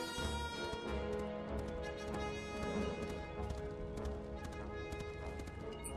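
Rapid horse hooves clatter in a steady galloping rhythm over layered game music and ambience in LEGO Indiana Jones: The Original Adventures, loud and continuous throughout.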